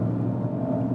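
An electric car's synthetic drive sound set to Roaring Pulse mode: a steady, low, droning hum with a faint pulsing texture, heard alone for a brief moment at moderate level.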